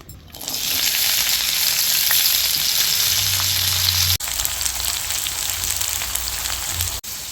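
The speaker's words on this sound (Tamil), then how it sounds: "இன்னும் கொஞ்சம் எண்ணெய் விட்டு இந்த பிரண்டையை நல்லா வதக்கி எடுத்துக்கலாம்." Pirandai (adamant creeper) fries in sesame oil with a loud, continuous close sizzle, steady throughout with a low stirring rumble partway through and two brief breaks.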